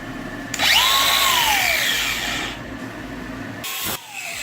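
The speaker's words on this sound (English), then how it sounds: "You have to modify this bit with a grinder" An angle grinder with a cutoff wheel cutting into a metal grout removal bit, a loud close whining grind that starts abruptly, holds, then stops and briefly restarts.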